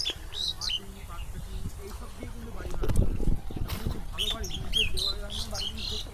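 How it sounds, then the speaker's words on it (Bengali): Birds chirp outdoors on a remote, isolated island, with short high calls scattered across the scene while a person talks over them. "দেখুন পাখি ডাকছে কত সুন্দর ফিলিংস"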